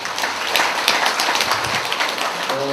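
An indoor audience gives sustained applause for Dongguk University president Han Bo-gwang at a Buddhism lecture, dense clapping throughout, with a voice starting at the end.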